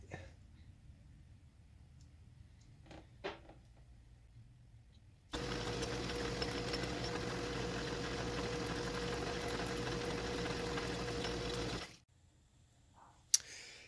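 A machine tool making the final cut on a small detent gear for Narco 121 and 122 series aircraft radios, running as a steady, even mechanical whir for about six seconds between quieter stretches with faint workshop clicks.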